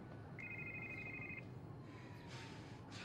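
A phone rings with a brief electronic trill, faint against a steady background hum, followed by quiet.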